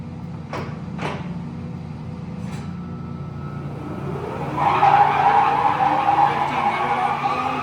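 An American engine lathe with a 20-inch swing runs its spindle at speed, a steady low mechanical hum that swells midway into a louder, even whine with a faint high tonal ring.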